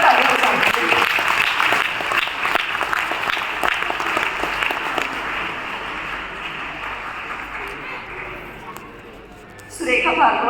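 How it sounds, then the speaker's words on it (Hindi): Audience applause at a talk or ceremony, a dense sustained clapping from a crowd that slowly thins over about nine seconds before a voice returns to speak at the end. "जोरदार ताली बजाइए।"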